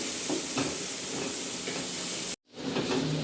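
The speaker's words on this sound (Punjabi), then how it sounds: "ਆ ਦੇਖੋ ਸਾਡਾ ਮਸਾਲਾ ਹੁਣ ਭੁੱਜਣ ਲੱਗ ਗਿਆ ਘਿਓ ਛੱਡ ਗਿਆ" Onion masala sizzles and hisses steadily as it fries in ghee, with a few stirring scrapes; the frying is close and continuous apart from one brief cut.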